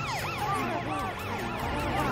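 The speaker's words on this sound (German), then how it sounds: "Mit ihrer Sirene wird sie den Weg frei machen." A wailing emergency siren rises and falls rapidly in repeated sweeps, loud and close, continuing throughout.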